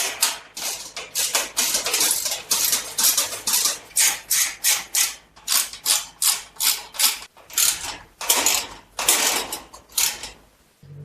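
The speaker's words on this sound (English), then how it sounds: "go through here and tighten up these 4 bolts as well" A ratchet wrench tightening bolts on a FLEXIMOUNTS GR38-2T two-tier overhead garage storage rack, with loud rapid clicking bursts repeated in a steady rhythm and short pauses between strokes.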